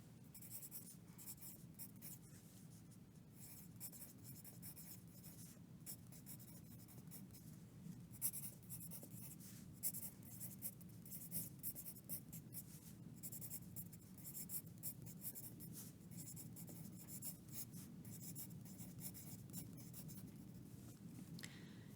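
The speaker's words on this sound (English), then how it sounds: "you want to write the title on the top" Steady scratching of a pen or pencil writing by hand on a sketchbook page, close and continuous for the whole stretch with small taps and strokes, no talking.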